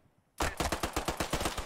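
A rapid string of about ten pistol shots in Post Scriptum, loud and close, starting abruptly after near silence and firing in a quick, steady rhythm.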